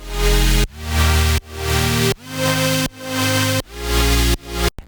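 A Serum software synth patch plays a chord progression, each sustained chord swelling up in volume before cutting off sharply to the next, six pumping chords in a row with no voices.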